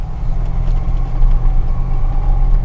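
A Ford F-100 hot rod with a 250 hp engine idles nearby, a loud steady low rumble that holds even throughout with no talking.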